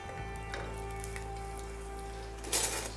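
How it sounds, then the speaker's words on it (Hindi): Black cardamom seeds, bay leaf and green chillies crackle in hot oil, giving a constant close sizzle with a steady hum beneath and a brighter burst of spitting near the end. "गर्मा गर्म तेल में मोटी इलायची के बीज, इसी में तेज पत्ता, तीखा करने के लिए इसमें हम डालेंगे हरी मिर्च"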